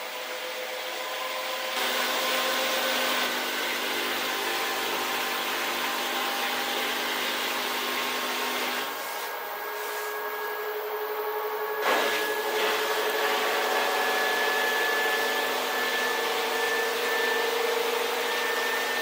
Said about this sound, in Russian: А вот и отжим пошел.